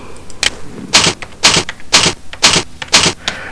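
A username and password are typed on a keyboard as a steady row of crisp, separate clacks, about two per second, close and clear with no talking.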